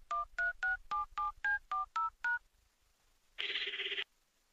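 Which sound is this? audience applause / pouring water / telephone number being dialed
telephone number being dialed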